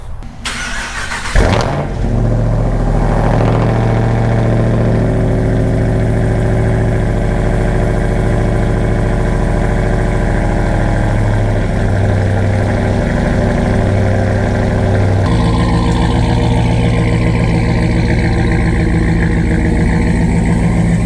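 A Dodge engine cranks and catches, then settles into a steady, throaty idle lasting about twenty seconds, close and loud, with no one talking.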